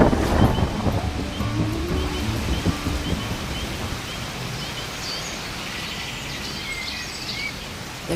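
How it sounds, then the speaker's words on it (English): Heavy rain pours steadily outside in a dense, even wash of noise. A low rumble of thunder rolls near the start. "The rain was pouring outside"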